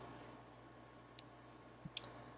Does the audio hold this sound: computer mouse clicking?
yes